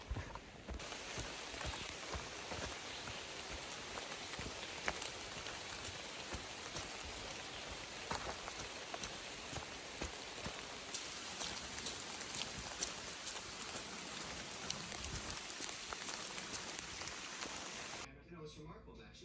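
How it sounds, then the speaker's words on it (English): Steady rain patters onto a wet, rocky forest section of the Appalachian Trail between Massachusetts and Vermont, a dense even hiss that fills the whole stretch and cuts off abruptly near the end. "I think it's starting to rain again"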